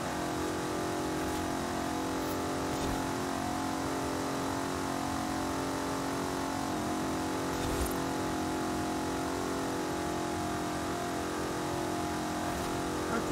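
A Chevrolet 150 Utility Sedan with a three-speed gearbox pulls hard, its engine holding a steady, loud drone with a brief dip partway through before the note continues.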